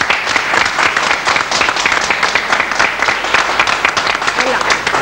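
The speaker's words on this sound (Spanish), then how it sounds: "Un aplauso para Marcelo Damián," Loud, dense applause at a quinceañera-style 15th birthday celebration as Marcelo Damián is welcomed, a crowd clapping steadily and continuously throughout, with a few cheers mixed in.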